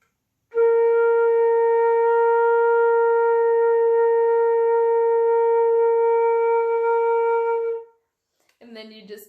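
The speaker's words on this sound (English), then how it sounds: "So we're gonna try this one, starting with long tones." A flute sustains one long, steady tone for about seven seconds, even and loud, before stopping; a brief voice follows after it.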